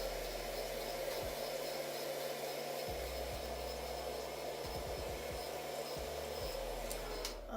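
A hair dryer blows steadily nearby while drying hair on a wig install, a loud continuous airy roar with a few low thumps of handling underneath.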